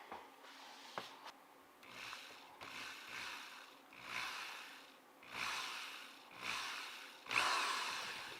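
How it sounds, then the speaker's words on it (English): A small drill bores a hole in a slot car chassis, whirring in several short, repeated bursts with brief pauses between them, close by and moderately quiet, with no talk. "I think I identified a good spot to drill the hole,"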